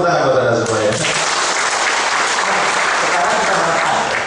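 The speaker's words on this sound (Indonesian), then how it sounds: "Tepuk tangan buat anda semua ya." Loud, sustained applause from an audience, many hands clapping together; a voice speaks briefly at the start.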